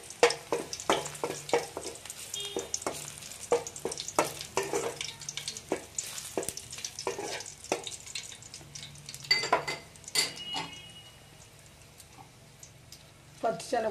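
Garlic cloves drop into hot oil as tempering for brinjal chutney, giving a soft crackling sizzle over a run of sharp clinks and taps from a spoon against the pan, which quiets near the end.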